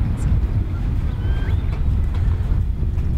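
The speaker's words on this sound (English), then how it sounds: "it was super windy on this day" Strong wind buffets the microphone in a constant low rumble throughout a disc golf round, with no pauses or other clear sounds.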